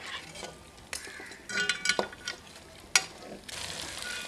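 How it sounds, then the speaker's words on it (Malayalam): Chicken frying in oil while a spoon stirs it in the pan, giving a steady sizzle broken by scraping strokes and a sharp metallic clink partway through, close and fairly quiet. "ഇനി കുറച്ചും കൂടി എണ്ണ ഒഴിച്ചിട്ട് ഫ്രൈ ചെയ്തെടുക്കാം."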